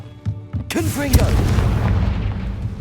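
Confringo, an explosive fire spell cast in the Hogwarts Legacy video game, lands as a sharp blast after a brief voice, quickly followed by a second burst and then a rolling, sustained rumble that fades slowly.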